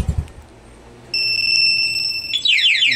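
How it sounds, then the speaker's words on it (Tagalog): A motorcycle anti-theft alarm on a light blue Honda Fazzio scooter sounds loud and close, a steady electronic tone that switches to a rapid warbling siren pattern partway through. "Lagyan natin ng alarm para sa anti-theft niya."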